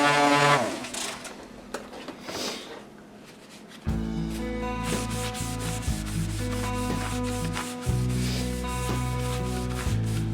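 An epoxy and wood river coaster is hand-sanded, first with scratchy rubbing strokes, then with a steady tonal buzzing from a motorized sander or buffer that runs loud and close to the end.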